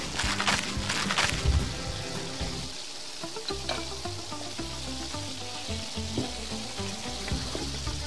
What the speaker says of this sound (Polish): Tam się nam smaży hamburger